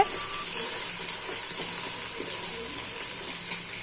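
Mint and coriander leaves sauté in a hot pan for a prawn pulao, giving a steady, even hiss and sizzle that runs unbroken from start to finish with no voices.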